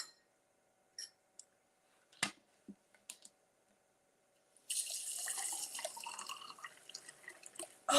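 A drink is poured into a glass after a few small clinks and taps, producing a bright, splashing trickle that runs for a few seconds close by, with no talk.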